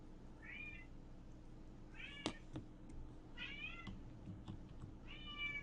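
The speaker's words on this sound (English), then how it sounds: "The kitty is coming to say hi to you" A cat meows four times in short rising-falling calls spaced about a second apart, fairly close, over a low steady hum and faint clicking.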